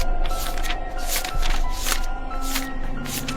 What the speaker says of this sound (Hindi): उसने पन्ने पलटे।